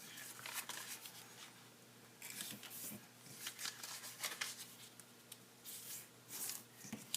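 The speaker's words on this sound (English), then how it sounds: "Then I'm going to take each of these tips and fold it into the center." Origami paper being folded into an eight-pointed Christmas star, tips creased in toward the center of a blintz base: quiet crinkling, rustling and soft swipes of paper in irregular bursts, close up and faint.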